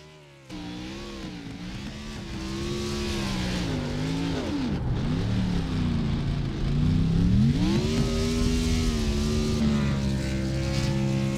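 A race car engine in the iRacing sim at Chicagoland during a Fuel Cup Series burnout, revving loud and close in long, rising and falling sweeps that dip sharply once mid-way before climbing again.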